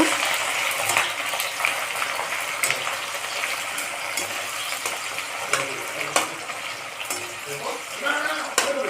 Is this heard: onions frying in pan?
yes